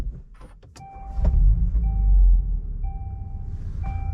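A 2023 VW Golf R 20th anniversary edition starting up inside the cabin: a few clicks and repeating dashboard chimes, then the engine cranks and catches into a loud rumble before easing to a steady idle.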